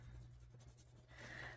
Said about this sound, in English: I'll scribble this on a piece of paper here.